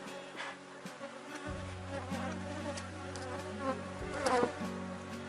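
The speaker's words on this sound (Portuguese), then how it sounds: "Vez por outra, gente, vai uma abelha aí na câmera" Honeybees from a strong, aggressive swarm that is dividing buzz continuously near the camera. Individual bees swell louder as they pass close to the lens, over a steady hum from the swarm.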